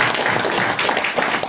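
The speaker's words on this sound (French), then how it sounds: "je vous demande d'applaudir très fort" Audience applause at a World Firefighters' Day ceremony, a thick burst of many people clapping, loud and continuous without voices.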